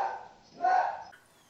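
A small pet dog gives a single short, high yip-like bark indoors, fairly close and moderately loud.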